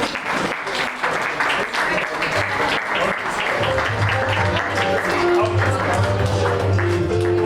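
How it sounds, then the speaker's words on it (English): Guests at a farewell gathering are applauded as they leave, a dense, steady clapping that fills the room throughout, with voices and some background music mixed in beneath it. "May we please stand up and give them a strong applause while they leave."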